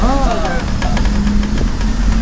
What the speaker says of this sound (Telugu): ప్రస్తుతం తిప్పల కట్ట నుంచి బస్సు బయలుదేరింది